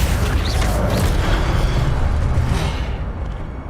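Incendio fire spell from the Hogwarts Legacy video game, a dense roaring whoosh of flame with a booming burst that sustains loudly for several seconds before easing off slightly at the end.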